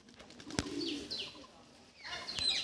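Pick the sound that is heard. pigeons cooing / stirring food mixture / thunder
pigeons cooing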